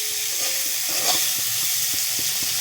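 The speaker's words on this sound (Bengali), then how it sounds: "এখন ফুলকপিটাকে ভেজে নিচ্ছি।" Steamed cauliflower fries in hot oil in a pan, a steady close sizzle with faint stirring scrapes, no voices.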